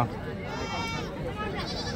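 Goats bleat with quavering cries while a person talks over them at a goat market, the animals close and fairly loud.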